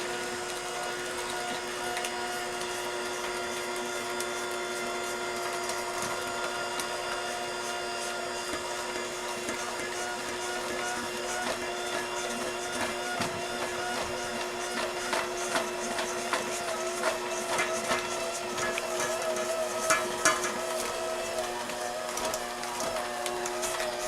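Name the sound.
electric mixer mixing bread batter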